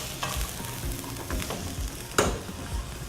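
Garlic and onions sizzle hot in a pan, a bright continuous frying hiss with a few stirring scrapes and one sharp burst of spatter near the end.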